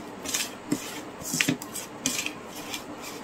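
Hands mix homemade fishing bait for catching stinging catfish and tengra, giving soft, irregular squelching and rubbing with a few sharper clicks, close and fairly quiet, with no voices.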